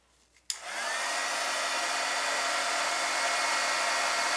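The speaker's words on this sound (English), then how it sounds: "And then I'll heat set this until it's clear and shiny." A heat tool blows continuously, melting clear embossing powder for cardmaking, starting abruptly with a click and holding a steady, close, loud whoosh.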